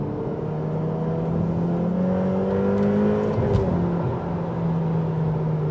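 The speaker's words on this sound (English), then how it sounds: "there's a lot more swishing from the turbos going on behind my ears" Ferrari F8 Tributo twin-turbo V8 accelerating on an open road, its engine note climbing steadily as a droning roar with turbo swish behind it, close and continuous, with no talking.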